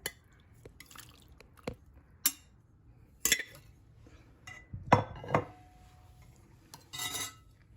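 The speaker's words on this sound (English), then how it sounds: "Let's go ahead and remove this juice of the lime. So let's go ahead and put it through a strainer." Lime juice drains from diced fish for mango habanero ceviche through a kitchen strainer, giving scattered drips and light metallic clinks with quiet gaps between them and no talking.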